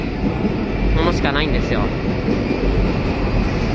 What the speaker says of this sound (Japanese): これは新快速電車、